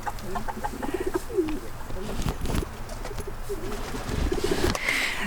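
Pigeons coo near and far around a small dovecote garden, their soft warbling calls coming in short repeated bursts over outdoor rustle and handling noise.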